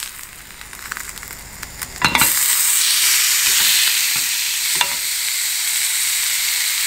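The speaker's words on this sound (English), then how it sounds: "after 2 minutes, I'm gonna flip the T-bone steak over" A T-bone steak sizzles on a grill, starting as a quieter crackle and then bursting into a loud, sustained close hiss after a couple of seconds, with occasional sharp pops and scrapes.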